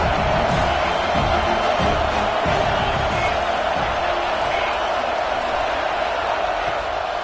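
Loud, steady roar of a packed stadium crowd in College Football 26, a dense wash of cheering and noise that continues without a break.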